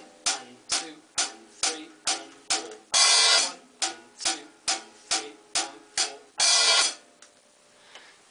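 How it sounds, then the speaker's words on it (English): A drum kit hi-hat pattern plays alone: steady closed hi-hat ticks in an even rhythm, with two longer washy open hi-hat hits landing at the end of each bar, close and clear. "I'll show you the hi-hat pattern."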